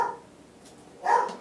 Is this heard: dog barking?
yes